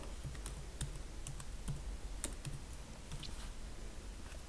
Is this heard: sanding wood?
no